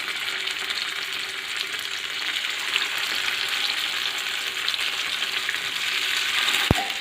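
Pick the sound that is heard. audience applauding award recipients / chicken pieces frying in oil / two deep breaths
chicken pieces frying in oil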